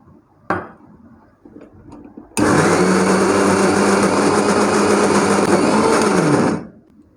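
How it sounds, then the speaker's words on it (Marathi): A kitchen mixer grinder blending cooked rice with a little water for idli batter, starting abruptly after a brief knock and running as a loud, steady, close whine for about four seconds before spinning down. "हा मिक्सरमध्येच्या भांड्यामध्ये टाकायचा आणि बारीक करून घ्यायचा आहे व्यवस्थितपणे"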